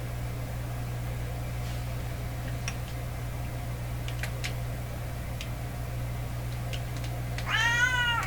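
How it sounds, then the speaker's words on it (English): A persistent house cat meows once near the end, a clear rising-falling cry over a steady low mains hum, with scattered faint ticks before it. "one of these things these cats know is how to be persistent"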